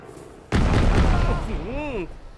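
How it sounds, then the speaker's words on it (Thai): A landmine blast in the war video game Ratten Reich: a sudden loud boom erupts after a moment of quiet and rumbles on, while a voice with rising and falling pitch comes in over the tail. "โอ้มีคนเหยียบกับระเบิดหรือเปล่าเสียงโครมมาเลยอะ"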